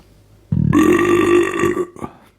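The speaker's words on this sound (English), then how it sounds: "good burp" A single loud, close burp after drinking ale, a long rumbling belch lasting over a second before breaking off with a small trailing tail.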